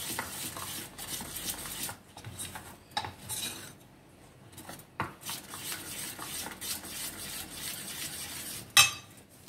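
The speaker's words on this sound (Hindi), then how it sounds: "दोनों चीज़ों को हम अच्छे से इसमें मिक्स कर लेंगे।" A spoon scrapes and clinks against a bowl while salt and sugar are mixed into dhokla batter, giving irregular close-up stirring and scraping sounds with a sharper knock near the end.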